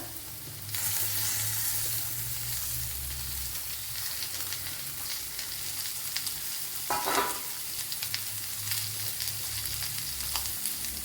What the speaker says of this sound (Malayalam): ഒരു മീഡിയം സൈസ് 2 സവാള ഇതുപോലെ അരിഞ്ഞെടുത്തിട്ടുണ്ട്. അത് ഇട്ട് കൊടുക്കാം.